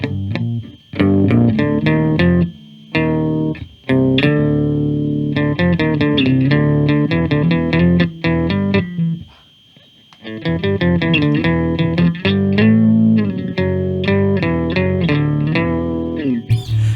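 A bass guitar played through a Behringer Ultra Octaver UO300 octave-down pedal, deep rumbling notes with a synthetic, doubled tone, loud and close, with brief pauses between phrases.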